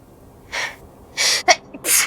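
Several sharp sneezes from a Danganronpa: Trigger Happy Havoc session come in quick succession, four loud breathy bursts with a small gasp-like catch between them, close and clear, with no talking over them.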